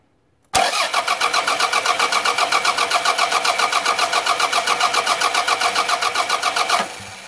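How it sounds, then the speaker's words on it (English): A car's starter motor cranks the engine during a starter circuit test, with a rapid, steady, rhythmic churning that starts abruptly and runs evenly for about six seconds before cutting off, loud and close. "let's give it a crank and see what we get"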